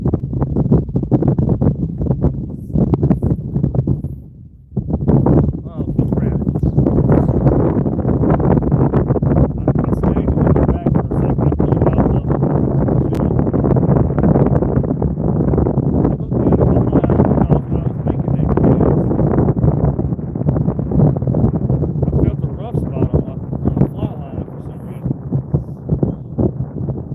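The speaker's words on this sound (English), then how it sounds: "The wind has started blowing." Steady wind buffeting the microphone on the Gulf coast during redfish fly fishing, a loud continuous rumbling roar that runs through the whole stretch with a brief lull near the start.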